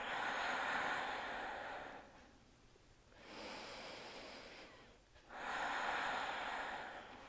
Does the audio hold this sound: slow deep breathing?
yes